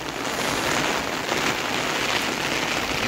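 Steady rain falls during the monsoon onto a farm pond, a continuous even hiss of drops with no break or voices.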